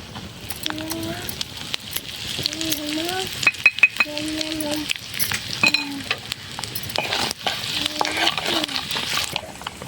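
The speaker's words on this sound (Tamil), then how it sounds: "கடுகு வந்து நல்லா பொரிஞ்ச உடனே இந்த மஞ்சத்தூளையும் பெருங்காயத்தூளையும் நம்ம உள்ளே சேர்த்துக்கலாம்" Hot oil sizzles and crackles steadily with a few sharp pops as mustard seeds, turmeric and asafoetida fry for pickle, while a spoon clinks and scrapes against a pan and a voice speaks intermittently.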